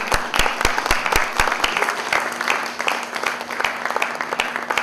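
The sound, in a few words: audience applauding at film event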